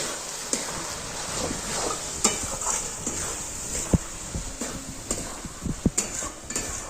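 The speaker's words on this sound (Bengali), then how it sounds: "এইটাই আমি এবার ভালো মতো কষিয়ে নেব" Spice paste with Kashmiri chili powder being sautéed in a pan, with a spoon scraping and knocking against metal in irregular clinks over a soft sizzle, no talking.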